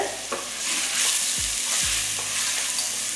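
Whole crab pieces sautéing in a pan for Tamil-style crab rasam, a steady close sizzle and frying hiss with a couple of stirring scrapes, no voices.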